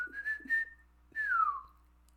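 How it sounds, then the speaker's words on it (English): A person whistles alone, close and clear: a few short rising notes at the start, then after a pause one long sustained note that glides downward and fades. "I can whistle."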